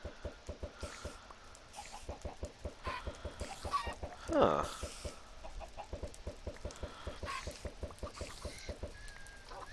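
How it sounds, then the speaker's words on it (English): Chickens clucking in the Minecraft mod Better Than Wolves, faint scattered clucks over a fast, steady mechanical clicking rhythm, with a brief spoken exclamation. "That's a pretty good amount of chickens."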